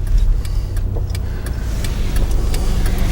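A car on a driving road test slows to a stop and creeps forward, heard from inside as a steady, loud low engine and road rumble with faint light ticks scattered throughout.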